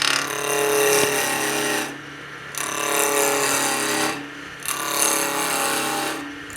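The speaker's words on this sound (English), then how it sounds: "this is how I generally do the peeling cut in motion" A skew chisel makes peeling cuts on a spindle blank spinning on a wood lathe, giving a steady loud shaving hiss in three long passes with brief pauses between them.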